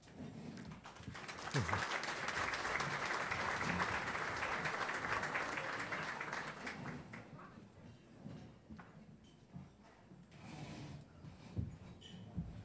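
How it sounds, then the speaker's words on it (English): An audience at a business event on shale applauds a speaker: sustained clapping from a large crowd for about seven seconds, then fading into scattered claps and room noise. "Let's show our appreciation to WesBanco, represented today by President Lisa Robinso"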